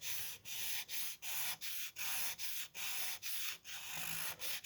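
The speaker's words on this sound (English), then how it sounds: "I'm trying not to sand the carbon fiber itself," Close, steady strokes of sandpaper scrub clear coat off a carbon fiber surface, each rasping pass separated by a brief pause in an even rhythm.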